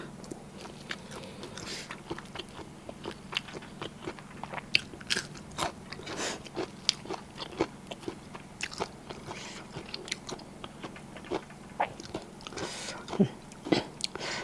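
Chewing on fermented pork nam wrapped in banana leaf, with hot sticky rice and garlic, gives close crunchy bites and wet mastication sounds. They repeat irregularly all through over a steady low hum.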